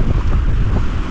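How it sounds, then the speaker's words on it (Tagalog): Strong amihan monsoon wind roaring on a beach, a loud low rumbling buffet across the microphone, continuous through the brief moment. "ugong pa lang ng hangin. Nakakatakot na"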